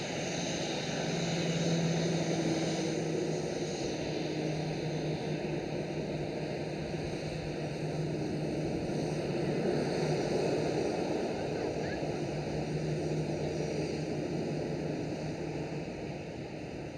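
Transavia Airbus A320 arriving at Amsterdam Schiphol, a steady broadband jet roar that swells gently and holds throughout, with a low engine hum and wind-like hiss and no clear voices.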